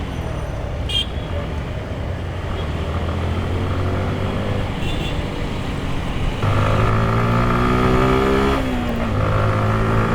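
On a busy Dhaka road, a bus drives past amid steady traffic roar, its engine rumbling and then revving louder with a rising whine, horns tooting briefly in the background.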